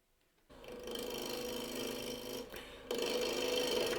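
A turning tool bites into a spinning koa wood natural-edge bowl on a lathe, hogging off mass in a loud continuous grinding rush that starts abruptly, dips briefly, then returns stronger.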